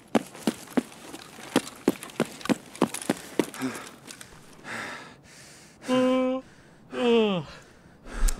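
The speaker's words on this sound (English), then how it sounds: "I'm yawning non-stop" A person yawns twice, long drawn-out breathy voiced yawns with falling pitch, following a run of sharp rhythmic clicking taps.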